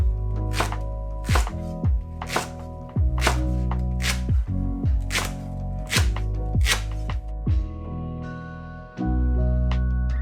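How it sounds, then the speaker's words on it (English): A knife slices through an onion on a cutting board in a series of sharp, evenly spaced chops, close and crisp, with no talk over them. "Just cut up an onion. Slice that."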